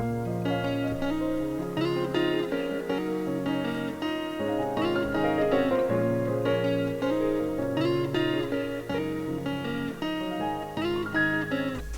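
A repeating melodic guitar loop layered with piano chords, dense and steady throughout, playing alone at a moderate level, made in FL Studio 20 for a beat.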